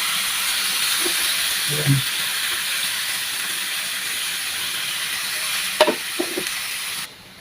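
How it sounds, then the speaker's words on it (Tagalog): Pork ribs sauté in a hot pan with a steady, bright sizzle and hiss that runs for several seconds, broken by a few soft clinks and a brief spoken word, then cuts off abruptly. "Igigisa na natin ang ating pork ribs."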